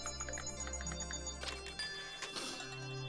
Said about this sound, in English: You're getting Pavloved by the bell sound effect end!